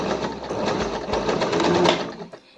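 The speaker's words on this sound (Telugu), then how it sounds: "చెక్ చేసుకున్నాక మళ్ళీ కొన్ని స్టిచెస్ వేయాలి." An Usha Allure DLX sewing machine stitches a buttonhole, a steady close mechanical whirr with rapid needle clatter that winds down at the end.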